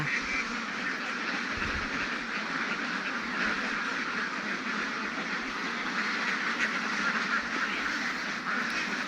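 A dense chorus of many ducks quacking continuously, a farm flock of over three thousand close by with no pauses and no talking.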